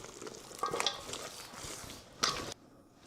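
Meat and onions being stirred and mixed together for air-fryer pork BBQ, wet squishing and soft scraping in close short strokes, ending abruptly in near silence.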